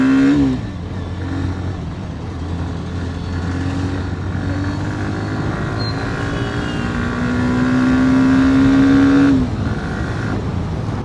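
Hero Xtreme 125R motorcycle on a test ride, its engine droning steadily and rising in pitch through gears, peaking near the end before the revs drop, with wind and road rumble close by.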